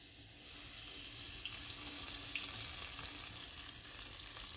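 Raw beef being washed in water, a steady running-water rush like a tap filling a sink, continuous and close with no talk.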